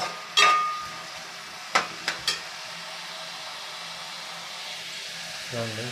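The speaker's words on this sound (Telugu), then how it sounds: "పచ్చిమిర్చి అండ్ ఉల్లిపాయలు వేసుకుని అండి నూనె అంతా వేసుకొని" Green chillies and onions fry in hot oil for a fish curry, a steady soft sizzle throughout, broken by a few sharp clatters of a utensil against the pan near the start.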